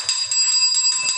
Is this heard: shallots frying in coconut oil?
no